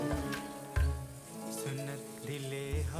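Chopped onions sizzle and fry in soybean oil in a pan for an egg bhurji, a steady crackling hiss with bursts of stronger sizzle, close and continuous with no talking.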